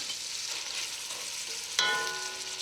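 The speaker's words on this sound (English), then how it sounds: "I'm gonna add in a tablespoon of salt, stir it in." Onions cooking in a pot with salt being stirred in, giving a steady soft sizzle and a louder scrape and clink of the spoon near the end, with no talking.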